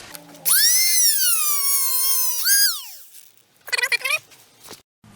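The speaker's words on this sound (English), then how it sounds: "I'm going to try it with a Dremel, a rotary tool" A Dremel rotary tool cuts a rubber pedal pad during a manual swap on a 1992 Nissan Skyline R32, spinning up to a loud, close, high whine that wavers in pitch, dies away, then returns in short, buzzing bursts.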